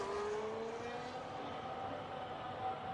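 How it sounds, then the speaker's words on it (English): A McLaren race car in a racing video game rounds the final turn of the Hungary circuit, its engine whining steadily and rising slightly in pitch, fairly faint and smooth throughout. "As he rounds the final turn in the big shiny McLaren."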